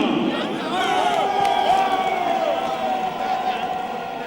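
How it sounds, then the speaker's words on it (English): A football stadium crowd at a Uganda vs Liberia match roars and applauds as George Weah is announced, a broad, sustained wash of cheering with voices rising over it. "a round of applause after the sound of the name George Weah"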